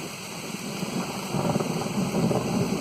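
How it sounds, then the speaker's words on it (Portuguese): Steady rain falling on a Sunday afternoon, with a deep thunder rumble building in the second half; a dense constant hiss of drops on surfaces, close and even, with no voices. "Barulho da chuva, o silêncio, o sossego."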